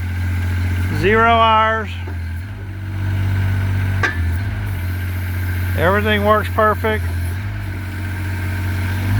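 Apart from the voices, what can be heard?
Kubota diesel engine of a mini excavator running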